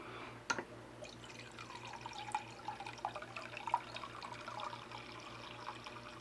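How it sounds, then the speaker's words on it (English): Beer pours from a jockey box tap into a 16-ounce pint glass, a soft steady liquid trickle with small drips and splashes running throughout, faint and close, over a low background hum. "So I'm ready to pull a draft here"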